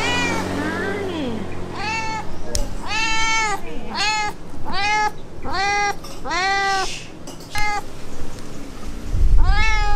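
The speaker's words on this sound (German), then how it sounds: "willkommen im Restaurant mit der nervigsten Katze der Welt" A cat meows repeatedly inside a restaurant, a string of loud, close, drawn-out cries in an uneven rhythm, with people talking faintly in the background.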